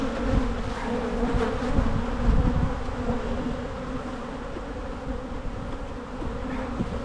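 Agitated honeybees buzzing around an opened hive during a colony split, a dense, continuous drone close by with steady loudness and no talking.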